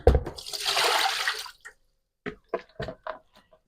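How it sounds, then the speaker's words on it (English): A whole river fish plunges into a bowl of water for thawing, a wet splash and sloshing that settles after about a second and a half, followed by a few brief knocks and taps. "So that's the quickest way to defrost fish. Put it in a bowl of water."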